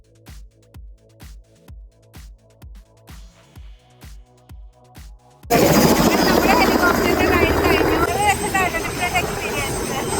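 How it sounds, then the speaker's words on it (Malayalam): A helicopter just landed thumps with a slow, regular rotor beat, then a loud broad roar of engine and wind takes over, with voices under the noise. "നമ്മുടെ ഫസ്റ്റ് ഹെലികോപ്റ്റർ എക്സ്പീരിയൻസ് കഴിഞ്ഞിട്ട് നമ്മൾ ലാൻഡ് ചെയ്തിരിക്കുന്നു"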